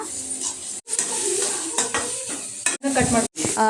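Onions and chillies are stirred in a pan for tomato curry, with close scraping and clinking of a spoon against the pan over a hissing sizzle, broken by a few short pauses.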